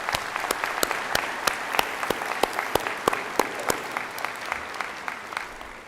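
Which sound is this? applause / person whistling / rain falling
applause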